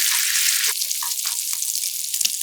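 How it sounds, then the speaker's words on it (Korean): Bacon and whole garlic cloves stir-fry in olive oil in a pan over medium-low heat, a close, bright sizzle broken by stirring and scraping, with no talk. "중약불에 팬 올려 올리브유 2스푼 두르고 달구어지면 베이컨, 통마늘 넣고 노릇한 맛있는 색깔이 날 때까지"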